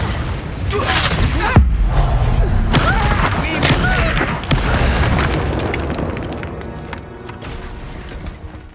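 Spell explosions from the Hogwarts Legacy video game: a dense run of booms, thuds and bursting pops under constant loud battle noise, with a voice calling out over the fight.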